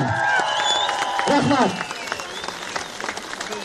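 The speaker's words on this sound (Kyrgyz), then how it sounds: "Бир кол чаап коесуздар гана." A crowd applauds at an outdoor election rally for presidential candidate Babanov in Kyzyl-Suu, with a burst of clapping over and around a man's amplified speech that fades out midway.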